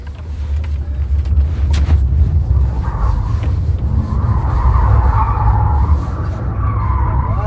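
Tires squeal loudly and continuously as a Kia EV6 GT electric SUV oversteers and skids, its motor roaring underneath throughout, close and intense.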